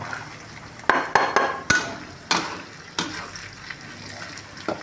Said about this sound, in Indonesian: kita lanjutkan memasukkan cabai hijau yang diiris